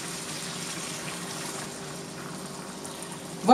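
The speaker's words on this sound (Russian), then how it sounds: "Воды наливаю тоже на глазок," Water pours steadily over rice in a frying pan for chicken and rice, a soft continuous trickling stream that rises sharply at the very end.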